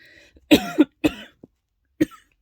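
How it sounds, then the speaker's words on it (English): Four sharp coughs from one person up close, a quick pair followed by two more spaced out, with quiet pauses between them. "apologize for the coughing."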